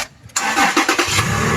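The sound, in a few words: Toyota Land Cruiser LC150 engine starting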